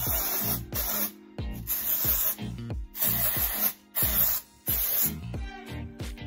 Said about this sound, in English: so I just take the dry shampoo and I just kind of